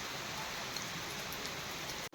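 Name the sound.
rain falling, water flowing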